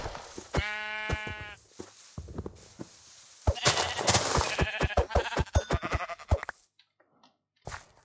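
Sheep in a blocky survival building game give a few loud, close bleats, one clear call first and then a busier run of bleating mixed with short thuds, ending in near silence.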